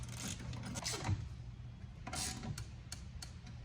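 A bolt is tightened on a pontoon boat's power bimini actuator with a ratchet, making short bursts of clicking mechanical ratcheting, close by, over a low background hum.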